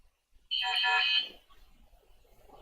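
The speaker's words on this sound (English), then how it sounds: "Oh, sorry, that's my phone." A phone ringtone chimes once, a bright, tonal electronic melody lasting about a second, fairly clear over a quiet background during an online video chat.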